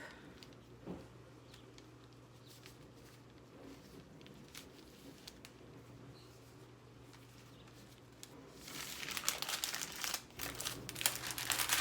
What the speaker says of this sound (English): So I'm just gonna fold them up.